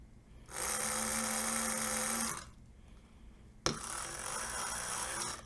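A small electric toy train motor and gearbox whir steadily for a couple of seconds, stop, then after a sharp click start whirring again, close up and fairly quiet.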